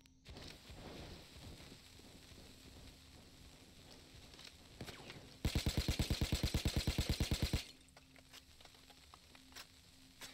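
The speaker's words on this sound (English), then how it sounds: "Those bullets went right through me." A rapid, even burst of gunfire in Payday 2 strikes the player for about two seconds, loud and rhythmic over a quieter hum with scattered clicks before and after.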